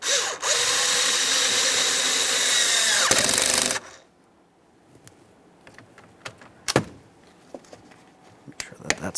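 A power drill tightens a mirror mounting nut on a 2007-2017 Jeep Patriot, one loud sustained whir that cuts off abruptly, then a few faint clicks and taps nearby.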